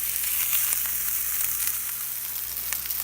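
Meat patties fry in a cast iron skillet with a steady, close, loud sizzle and crackle that runs without a break and has no talk over it.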